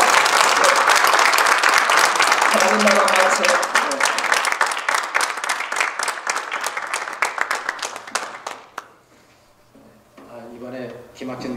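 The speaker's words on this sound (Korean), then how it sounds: "여러분 한번 박수하시면서 할렐루야" Church audience at a pastors' seminar claps and cheers loudly as the pastor enters, a dense roar of applause that thins into scattered claps, with voices chanting over it before a speaker talks.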